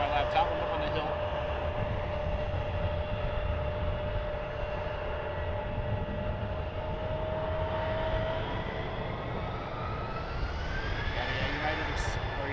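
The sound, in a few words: United Airlines Boeing 737 airliner approaching to land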